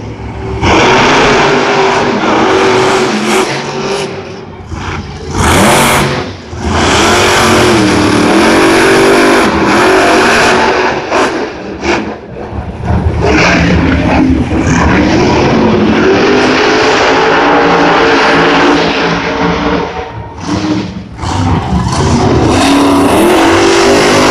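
Monster truck El Toro Loco races in a Monster Jam stadium event at Gillette Stadium, its engine roaring and revving loudly and almost continuously, with surges and brief dips as it accelerates.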